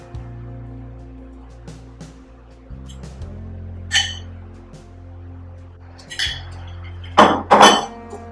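Dishes and utensils clink on a plate as cooked rice noodles for Singapore hor fun are served, with a few sharp isolated clinks early on and a louder cluster of clatters near the end over a low kitchen hum.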